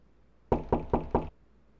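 Four crisp, evenly spaced knocks on a door in The Blackwell Legacy adventure game, loud and close, with quiet before and after.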